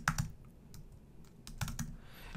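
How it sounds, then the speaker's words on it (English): Typing on a computer keyboard, sparse soft clicks in small clusters, quiet and close, with pauses between keystrokes. "But I'm going to type in and I'm going to choose Tony Robbins."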